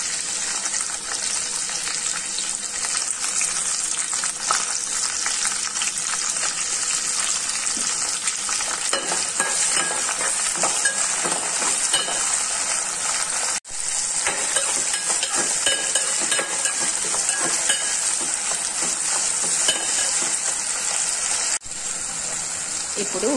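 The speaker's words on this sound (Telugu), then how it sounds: "ఇప్పుడు ఉల్లిపాయలు వేసుకుందాం" Sliced onions fry in hot oil with mustard seeds and curry leaves for a cucumber tomato curry, giving a loud, steady sizzle close up, with scraping from the stirring spoon throughout.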